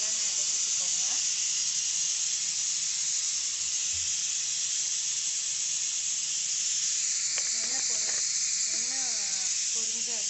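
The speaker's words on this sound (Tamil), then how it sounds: "எண்ணெய் பொரிஞ்சு வந்ததும் கடுகு கொஞ்சமாக, வெந்தயம் சேர்த்துக்கோங்க." Sesame oil heats in a pan for tempering, giving off a steady bright sizzle and hiss that runs without a break, while a voice speaks briefly over it now and then.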